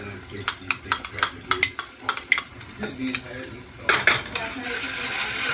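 Sofrito and garlic in hot oil for yellow rice with pink beans, with a spoon clattering and scraping against a pot in quick irregular strikes over a low sizzle, close and fairly loud.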